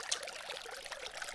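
Small water trickle dripping through moss in a garden pond feature, a soft, steady, close patter of many tiny drips with no break, on its own without any voices.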